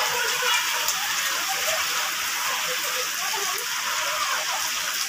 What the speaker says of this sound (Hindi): ओ बारिश मजे कर रही है